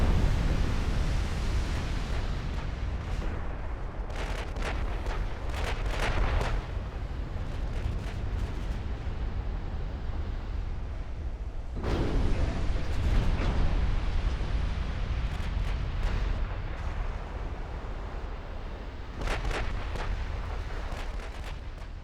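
Repeated booming salvos from 7.5-inch secondary naval guns in a 1946 naval battle near the Solomon Islands in Ultimate Admiral Dreadnoughts, heavy rumbling blasts rolling almost continuously with sharper bursts clustered throughout, no voices.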